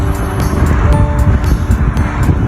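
Steady, loud roar of dense expressway traffic in Canada, cars passing close by at a slow crawl in a continuous wash of engine and tire noise, with no talking.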